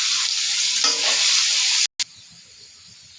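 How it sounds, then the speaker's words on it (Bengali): Chopped onion frying in a pan, a loud dense sizzle with stirring scrapes that cuts out abruptly, then returns as a quieter, thinner sizzle. "এখন আমার পেঁয়াজটা ভাজা হয়ে গেছে, একদম বাদামি কালার।"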